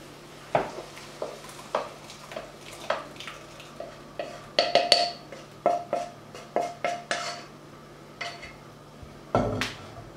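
Sautéed tomatoes are emptied from a frying pan into a dish, with a run of close, sharp metal clinks and scrapes as a utensil knocks against the cookware, ending in a louder clatter.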